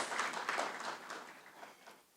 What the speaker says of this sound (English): it's okay to applaud them